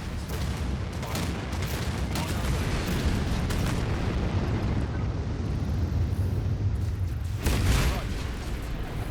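A nuclear missile explosion in the futuristic city-building video game Anno 2205 makes a sustained, loud, roaring rumble. A heavier burst comes near the end.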